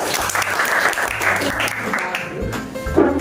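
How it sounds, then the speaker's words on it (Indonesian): Classroom applause for a group of primary school pupils after a presentation, a brief moderate round of clapping from students with some voices mixed in. "untuk kelompok 1 kita beri tepuk tangan"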